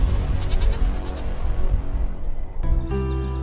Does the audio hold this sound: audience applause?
no